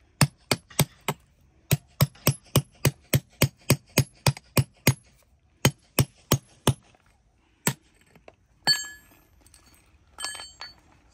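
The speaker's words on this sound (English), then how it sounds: "then we're going to use a flat chisel" Sharp metallic clinks of a hammer striking a flat chisel to free electric-blue cavansite crystal from its host rock, a steady run of about twenty-five close, evenly spaced blows, then a pause and a few scraping, rattling stone sounds.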